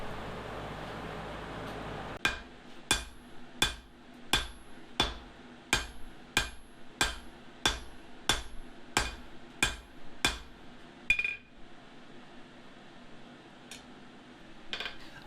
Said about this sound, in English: it takes everything I have to get it to move underneath the hammer